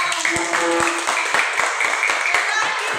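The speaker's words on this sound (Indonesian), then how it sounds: "Tepuk tangan buat Salata." Students in a classroom clap together in a quick, fairly regular rhythm, with close, sharp hand claps and voices mixed in.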